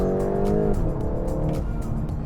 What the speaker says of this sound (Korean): 배기관에서도 이제 제법 파편뱅이 터져 나오죠.